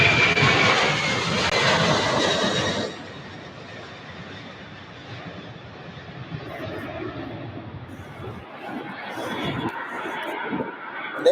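Jet engines of an MD-11 at Louisville airport, a loud broad roar for the first few seconds that drops to a steadier, quieter rumble as the aircraft moves on, with faint background noise.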